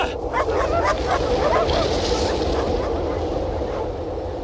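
Sled dogs bark and whimper excitedly at the start of a long sled relay, a busy layer of yips and whines over steady low rumble, with some voices mixed in.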